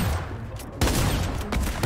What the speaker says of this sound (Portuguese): Vai, Monteiro, acerta um tiro nele, Monteiro